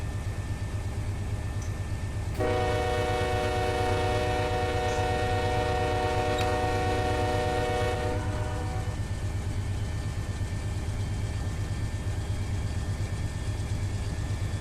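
A freight train in the Run 8 Train Sim video game rumbles steadily at around 50 mph. A loud, sustained multi-tone horn sounds for several seconds over the running noise, then cuts off and the train keeps rolling.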